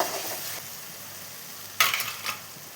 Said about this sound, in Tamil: இந்த மசாலா வேகட்டும்.